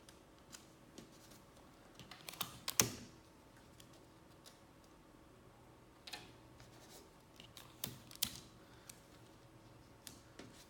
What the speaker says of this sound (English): I'm just going to use some typical clear tape, Scotch tape on the corners.